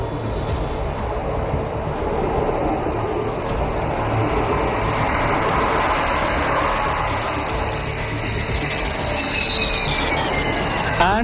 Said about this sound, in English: This is where Rafale excels. Short landing distance and high authority.